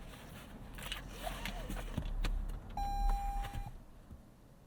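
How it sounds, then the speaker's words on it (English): A 2022 Lexus LX 600 lowering its air suspension after shutdown gives a brief steady mechanical whine under faint outdoor ambience, with light clicks and shuffling nearby. "The car lowers back down as you shut it off."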